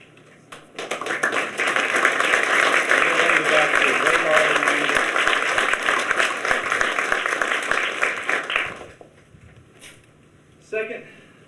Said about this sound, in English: give you a round of applause that you deserve